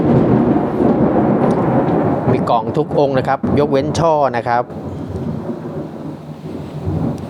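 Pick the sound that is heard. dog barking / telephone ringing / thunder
thunder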